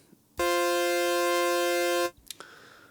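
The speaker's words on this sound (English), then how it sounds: "This is a fifth, and it'll sound like this now." A steady synthesizer chord of two tones a fifth apart sustains for under two seconds, then cuts off, leaving faint room noise and a couple of clicks.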